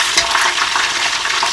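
Steady, bright sizzling of crabs frying in a hot pan, close and continuous, with no voices.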